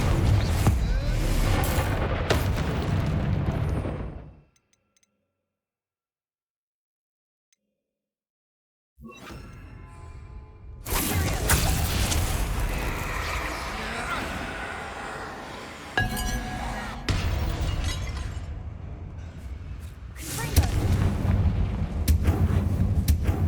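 Confringo blasting curses go off in the Hogwarts Legacy video game as heavy, booming blasts with clinking debris, a sudden drop to near silence, then more rumbling explosions and crackling effects.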